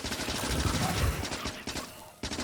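Rapid gunfire in Factorio, a burst of repeated shots in quick succession with short gaps, moderately loud and sustained through most of the moment.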